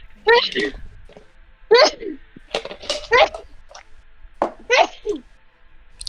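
Someone sneezes during a tabletop role-playing game session, a sharp burst breaking into talk and followed by voices.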